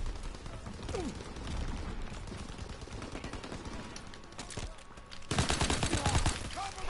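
Rapid, dense gunfire from a fire shotgun and other weapons in Call of Duty WW2 multiplayer, a steady stream of shots that grows louder and heavier near the end, with a player's voice talking over it.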